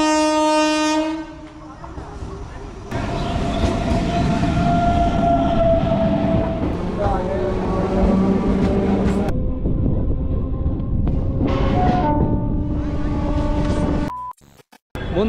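A train at Sealdah railway station in Kolkata gives a long, loud horn blast, then rumbles along steadily, with further horn tones near the end and faint voices in the background.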